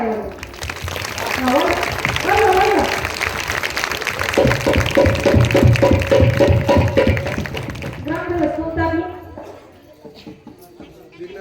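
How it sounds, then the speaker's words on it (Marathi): Village crowd at a Marathi community gathering in Latur claps loudly for the organizing committee, dense and steady for about eight seconds, then fading as a voice takes over near the end. "सगळ्यांनी त्याच्याकरता एका जोरदार टाळ्या"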